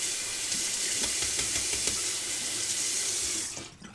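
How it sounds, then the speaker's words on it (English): Hot water runs steadily from a tap to rinse shaving cream off, a continuous close hissing splash that cuts off near the end. "Rinse that off, hot water."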